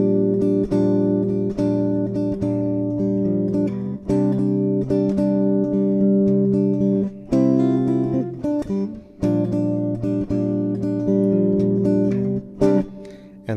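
Fingerstyle acoustic guitar playing the intro to a song, steady plucked notes over ringing bass in a close, clean recording, with a short pause around the middle before the pattern resumes.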